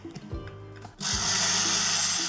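Barnyard millet, green chilli, ginger and cumin ground together in a mixer jar: a brief clatter, then the motor kicks in at about one second and whirs loudly and steadily to the end.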